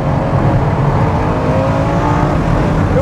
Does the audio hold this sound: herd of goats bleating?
no